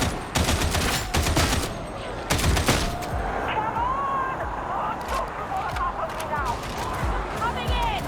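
Rapid bursts of gunfire in the video game Warhammer 40,000: Darktide, with sharp repeated shots in clusters, then tonal whines and shouting voices as the firing continues more sparsely.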